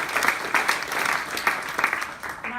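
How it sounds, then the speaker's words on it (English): Audience at a panel discussion on child refugees applauds the panel, a steady, moderately close round of clapping from a mid-sized crowd. "So let's give them another round of applause"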